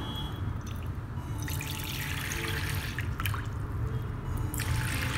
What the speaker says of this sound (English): every time I place my hand in front of the tap, the water flows from the pipe and goes into the bowl